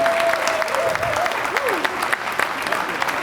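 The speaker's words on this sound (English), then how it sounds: "So let's give them all an applause." Audience applause at an energy-day pitch competition, a dense, steady clapping from a crowd with a voice speaking over it.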